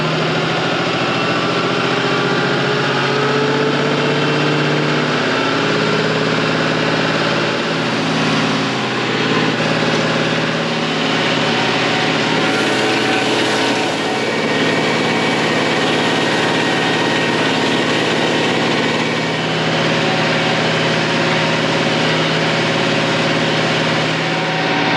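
A tractor pulling a hay tedder through a field drones with a loud, steady engine note for the whole stretch, close and continuous, with no talking.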